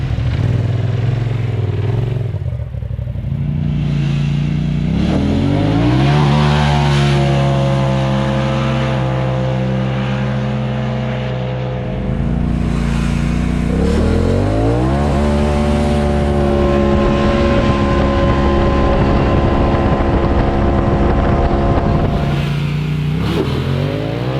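Several side-by-side UTVs (a Polaris RZR, Polaris KRX, Yamaha YXZ and Can-Am Maverick) race on a spring trail ride, engines loudly revving and shifting up through the gears, pitches climbing in steps and overlapping throughout, with no talk.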